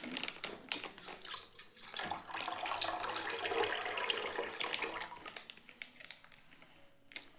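Water pours steadily in a soft splashing stream for several seconds, with a few clicks and knocks around it, fairly quiet.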